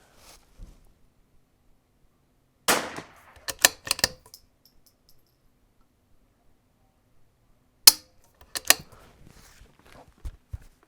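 Vudoo Gun Works V-22 rifle firing Midas Plus ammunition at a range: two sharp, isolated shots several seconds apart, each followed by brief clicks of handling, with near silence between.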